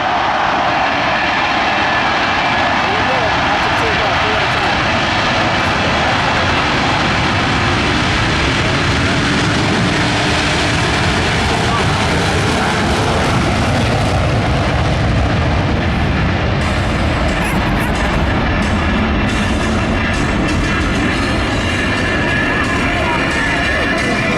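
Loud, continuous roar of the Blue Angels Diamond formation jets in afterburner at an air show over Naval Air Station Joint Reserve Base New Orleans, a dense rumbling blast that swells and holds throughout.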